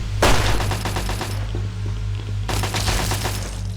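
Bursts of automatic gunfire in the video game Fallout, two loud rattling volleys separated by a quieter stretch, close and with no voices over them.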